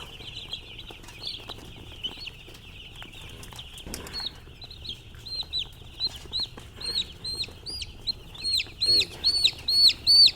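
Broiler chicks chirp in rapid high peeps that grow louder and denser toward the end, close by, with faint handling noise beneath.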